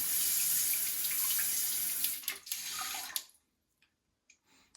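Water sprays in a steady hiss from a stainless steel bidet attachment with no electricity, close and moderately loud, then sputters and cuts off, leaving faint drips and clicks.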